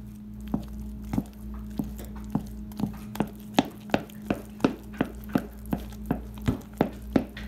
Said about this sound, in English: now with my wooden spoon, I'm gonna mix it all together